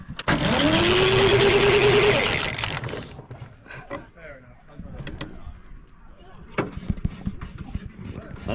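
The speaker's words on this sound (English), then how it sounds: "That starter motor works alright" A prewar racing car's starter motor cranks loudly for about two seconds with a rising whine, then dies away into quieter mechanical clatter and knocks at a hill-climb event, with voices chatting nearby.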